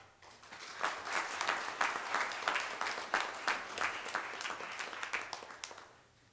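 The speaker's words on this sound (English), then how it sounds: "So let's clap our hands to God." A church congregation claps along during a worship service: dense, rhythmic hand clapping from many people builds quickly, holds a steady beat, then fades away at the end.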